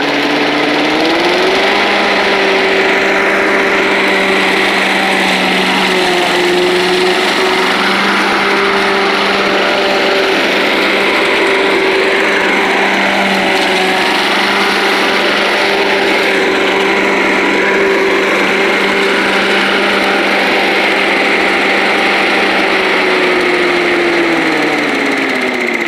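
An old Rover Turbothrust engine roars continuously at full throttle, a loud, close, sustained whine and drone that rises briefly early on and holds steady for the whole stretch with no voices.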